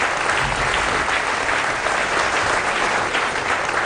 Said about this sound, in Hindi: क्योंकि सारा पूरे हाउस ने आपकी बात पे ताली बजाई